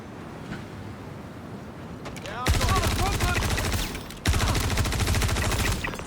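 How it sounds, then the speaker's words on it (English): Rapid gunfire from a rifle in the Star Citizen video game, a burst of repeated shots starting midway, a brief pause, then another sustained burst, loud and close, with game sounds underneath. "let's go ahead and fire off a couple rounds"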